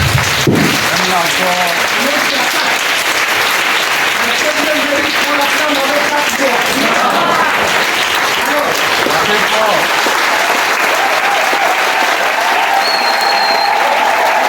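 A church congregation claps hands in loud, sustained applause, with voices and cheering mixed through the dense clapping the whole time.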